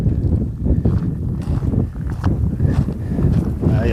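Strong wind buffets the microphone on an open plain of farmland with wind turbines in the distance, a loud, gusty low rumble that surges and eases continuously with no voices.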